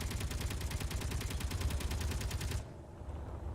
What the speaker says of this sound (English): What the hell are you shooting at, crazy gun?